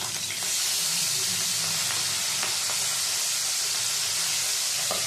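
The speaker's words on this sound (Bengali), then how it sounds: "মাছগুলো এক পিঠ ভাজা হয়ে গেছে, আর এক পিঠ উল্টে দিচ্ছি" Pabda fish sizzle in a pan of oil after being flipped for a spicy fish curry, a steady close hiss that runs alone with a few faint pops.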